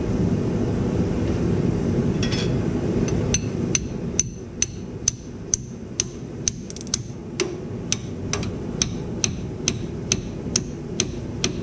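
Hammer blows on a wedged joint of an old Ford, a steady run of sharp metallic strikes at an even rhythm, over a loud constant engine-like rumble in the background.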